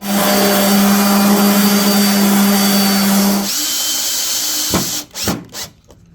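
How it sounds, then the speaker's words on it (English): Power sander working the underside of a walnut table piece: a loud, steady motor whir with a buzzing hum runs for over three seconds, eases into a lighter spin-down, then ends with a few handling knocks. "So I'm going to sand this, and then I'll go ahead and mount this piece here."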